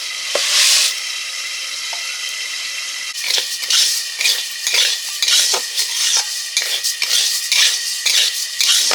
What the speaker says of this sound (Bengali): ডালটা ভেজে নিচ্ছি মুগ ডালটা ভেজে তুলে রাখলাম